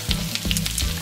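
Onions tipped into a hot pan for a German farmer's breakfast, a brief burst of close sizzling with a few soft clatters as they land and settle.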